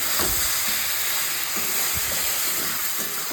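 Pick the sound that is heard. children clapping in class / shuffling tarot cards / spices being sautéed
spices being sautéed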